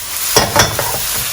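Beef fried rice being stir-fried in a pan, a brief burst of sizzling with a few quick scraping stirs, close and loud, no talk.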